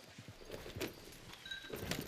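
Horse hooves clip-clopping in the video game Red Dead Redemption 2, a few faint, quiet hoof knocks scattered across a brief stretch, with light jangling of tack.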